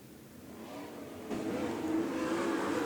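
Race cars on a short oval bullring racetrack rev back up to speed after a caution, their engines rising faint and distant, growing steadily louder and fuller.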